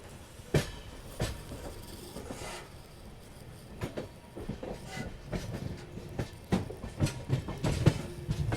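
Amrit Bharat train pulling into Shoranur Junction station in Kerala: a steady rolling rumble of railcars with repeated sharp clickety-clack wheel thumps over rail joints, growing busier and closer toward the end.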